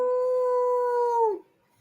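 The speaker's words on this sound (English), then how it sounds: "Dog." A dog howls in one long, steady, tonal wail that holds its pitch, then bends down and breaks off, leaving near silence.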